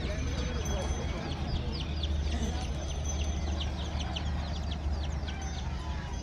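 Multicoloured hens and roosters cluck and chirp repeatedly at close range over a low background rumble while people talk.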